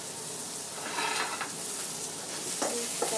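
Garlic and onion sautéing in a pan with cabbage and baby marrow, a steady close sizzle with soft stirring scrapes rising and falling, and no talking.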